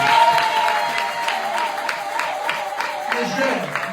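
A church congregation claps in a steady rhythmic beat and cheers, a sustained crowd sound under a loud voice speaking over it from start to finish.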